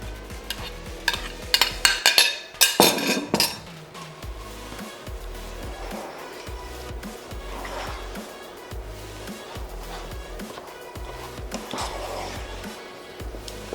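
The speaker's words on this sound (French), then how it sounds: "On remue bien" Parmesan is worked into thick polenta in a pan, giving close, repeated scraping and stirring strokes with a few louder clattering knocks early on, no voices.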